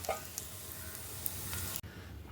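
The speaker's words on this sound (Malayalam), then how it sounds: "നമ്മളൊരു പയറ് ഇഴുക്കിയിട്ട് ചട്ടിയിലാണ് താളിക്കാനും വെച്ചത്" Stir-fried beans tempering in a clay pan, a soft continuous sizzle with a few faint clicks, cutting off abruptly near the end; no one speaks.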